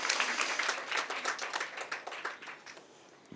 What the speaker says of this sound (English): Give yourself a round of applause for flying a helicopter.